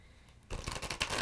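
Tarot cards being shuffled: after half a second of near silence, a burst of rapid riffling and flicking card noise starts up close and carries on to the end.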